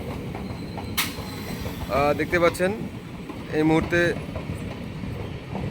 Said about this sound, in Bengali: কাশিমবাজার রেল স্টেশনের 3 নম্বর প্ল্যাটফর্ম থেকে ছেড়ে যাচ্ছে।